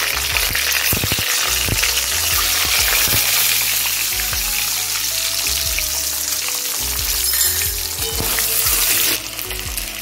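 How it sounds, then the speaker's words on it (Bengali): Eggs frying in hot oil with salt and turmeric for an egg and prawn biryani, a dense steady sizzle with scattered crackles and spatters, loud and close, easing off near the end. "ডিমগুলো নুন হলুদ দিয়ে ভেজে নেব।"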